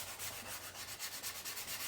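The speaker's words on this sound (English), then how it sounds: "This is a 220 grit, and I'm putting it just over a piece here. So it's soft, and we're going to start sanding." A guitar body from a Les Paul DIY kit is sanded by hand with 220 grit sandpaper, a soft, rhythmic rasping of back-and-forth strokes, close and quiet with an even pulse and no talking.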